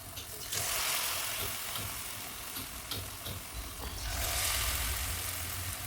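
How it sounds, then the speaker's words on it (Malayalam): Bonda dumplings dropped into hot oil, a steady close sizzle and hiss that swells as more pieces go in, with no talking. "നല്ലപോലെ എണ്ണ ചൂടായിട്ടുണ്ട്, അതിലേക്ക് ഇടുന്നുണ്ട്."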